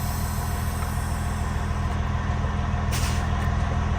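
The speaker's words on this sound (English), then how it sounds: "So now I'm gonna push the tractor brake in, and we're gonna see if this air pressure builds back up." Truck idles with a steady low diesel rumble while a short sharp hiss of air brake release bursts out near the three-second mark, followed by a smaller puff, close and alone without talk.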